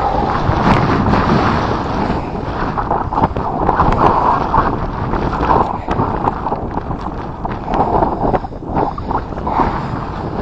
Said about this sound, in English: Sorry guys, a little bit windy.